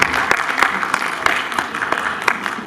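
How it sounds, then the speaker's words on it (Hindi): Audience clapping at a film launch ceremony in an arts council hall, a loud run of steady overlapping claps with a little crowd murmur underneath. "दफा तालियां बजा दीजिए"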